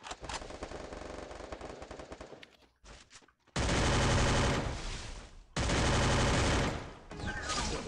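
Rapid bursts of automatic gunfire in the video game Free Fire, in loud, sustained volleys, broken by a brief pause, with a voice speaking faintly underneath.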